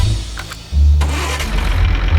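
An engine in Farming Simulator 19 revs up on a tractor-driven straw baler, a low steady drone that jumps louder partway through and holds, with no talk over it.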